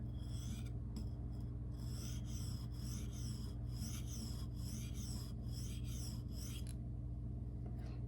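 Rhythmic gritty scraping of a ProCut knife pushed freehand over Shapton Glass and Naniwa whetstones, quick repeated strokes close up over a steady low hum, stopping near the end.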